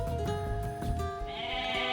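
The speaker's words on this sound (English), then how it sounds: "The goat has been seized" Goat bleating in the Age of Mythology strategy game, a quavering harmonic bleat that wavers in pitch for about two seconds, clear and close over faint game sounds.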